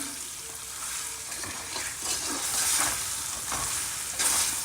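Dry chilies stirred through a spice mix for a sweet-and-tangy carrot pickle, giving a steady rustling, scraping churn with several brighter swells, close and continuous with no talking.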